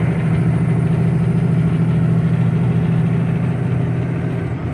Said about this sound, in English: As you can see, the engine brake is on.